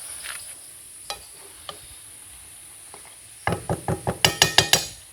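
Mutton curry finished with a little ghee being stirred in a pan, a faint sizzle with a few scattered taps, then a quick run of sharp metallic clinks and knocks against the pan, close with no voices.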